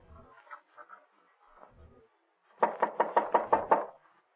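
Seven loud, evenly spaced knocks on a closed door down a hallway, coming in a quick burst after a few softer, scattered taps and thuds, in an old radio crime drama.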